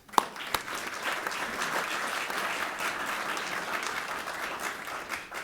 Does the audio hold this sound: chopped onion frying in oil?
no